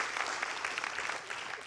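Audience applause at a public talk on religion and humanity with KH Yahya Cholil Staquf, a dense steady patter of many hands clapping, close and moderately loud throughout with no voices.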